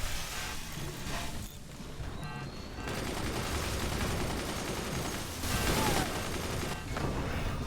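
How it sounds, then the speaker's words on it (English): Weapons firing in the strategy game Forts: sustained volleys of gunfire and cannon shots rattling on and off, loud and busy throughout with brief pauses between bursts. "I return fire"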